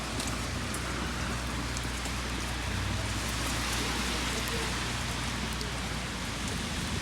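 Steady rain pours down in a dense, even hiss that continues unbroken for the whole stretch, close and fairly loud, with no voices.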